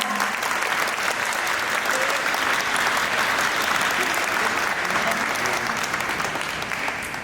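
An audience at an outdoor cultural rally claps steadily, welcoming a hospital director to speak. The applause is dense and sustained for the whole stretch at an even level, with a few faint voices mixed in.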